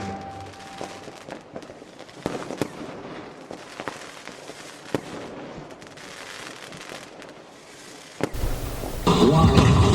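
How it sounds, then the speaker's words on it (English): Sky Ladder, a large gunpowder firework artwork, cracks and pops in rapid scattered bursts at a distance, building to a loud dense roar at the end. "This is no ordinary firework display. This is Sky Ladder."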